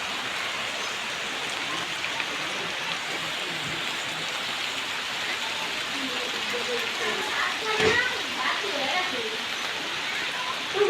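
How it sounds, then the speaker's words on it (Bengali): Heavy rain pours steadily in Madaripur, Bangladesh, a dense continuous hiss at even loudness throughout, with a brief louder patch near the middle and no talk over it. "দেশে আইলাম অনেক বৃষ্টি, তুমুল বৃষ্টি নামছে রে।"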